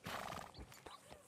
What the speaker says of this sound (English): Look, this horse is eating better than me.